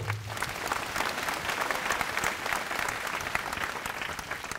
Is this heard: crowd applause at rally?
yes